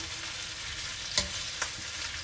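Beef frying in a pan while being stirred, a steady sizzle with two brief scraping clinks of the utensil against the pan.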